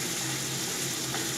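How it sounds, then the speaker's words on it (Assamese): Tomatoes and potatoes fry together in a pan for a fish curry, giving a steady, close sizzle of hot oil with no pauses for the whole short stretch. "একেলগে এইখিনি ভাজি"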